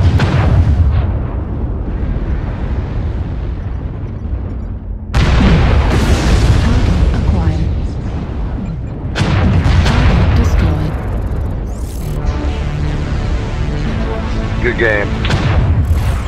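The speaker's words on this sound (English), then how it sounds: "Airstrike activated." Heavy airstrike explosions in MechWarrior Online land as loud, booming bursts in several waves, rumbling and layered over continuous battle noise while a voice speaks briefly.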